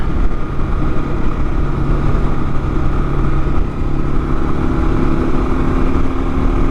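A 2022 Kawasaki KLR650 motorcycle pulls away on the highway, its single-cylinder engine droning loud and close with a steady throb, buried in heavy wind rush.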